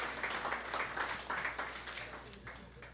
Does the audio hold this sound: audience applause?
yes